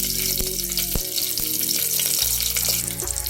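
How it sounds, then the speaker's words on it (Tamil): Cumin seeds and green chillies sizzle loudly in hot oil for watermelon pulao: a dense, continuous frying hiss close by, with a few light knocks and stirring sounds, without voices. "இதுல வந்து கொஞ்சம் சீரகம் ஆட் பண்ணிக்கலாம். அதுக்கப்புறமா 2 பச்சை மிளகாய்"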